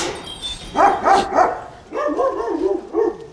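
A large Kangal dog barks and whines in two short clusters of voiced, yelping calls, fairly close, with quiet background hiss between them.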